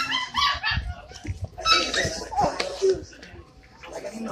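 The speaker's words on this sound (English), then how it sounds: "Oh, husky!" Husky dog in a dog store yipping and whimpering in short high bursts, close by, mixed with excited talk and exclamations from people nearby.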